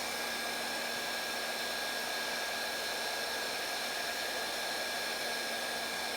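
A heat gun on its low setting blows steadily at a seized TRX 3.3 nitro engine, a constant close airy whoosh with a faint hum, unbroken and alone.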